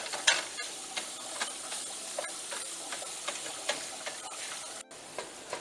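Pork filling for egg rolls sizzles steadily in a pan over medium heat, a continuous crackling fry with occasional sharper pops and stirring scrapes, close and fairly quiet throughout.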